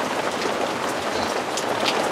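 Steady rain pours down around a back step beside a tarp, a dense continuous hiss of drops striking surfaces close by, with no voices.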